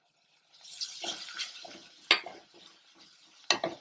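Ginger garlic paste and spices sizzle softly in hot oil for a makhani butter gravy, with a spoon scraping and stirring the pan and two sharp clinks against the metal.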